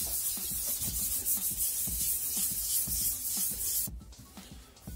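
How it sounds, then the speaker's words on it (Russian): Rhythmic sanding strokes rasp back and forth up close on a decorative stone made from a plastic canister, then stop abruptly near the end. "я шлифовал так, как смог, больше не буду"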